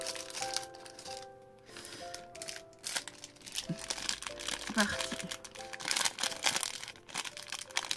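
Plastic crinkles and crackles close by as scissors snip open a sachet from a 2022 advent calendar, with a few sharp cuts among the rustling and a person talking over it.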